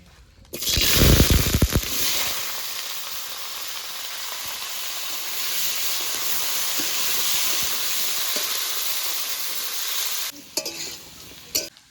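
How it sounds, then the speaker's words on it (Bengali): Potatoes frying in oil in a hot wok-style pan give a steady, loud sizzle and hiss for most of the clip, with brief stirring clatter near the start and end. "এবার আলুটা ভেজে নেব।"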